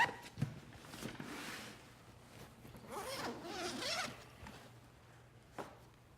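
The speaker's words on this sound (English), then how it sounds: "1 zip, you open them both at the same time" A zipper is pulled open on a Peak Design camera cube packed inside a travel backpack, with several quick rasping zip strokes close by, a few fabric handling clicks, and no talk.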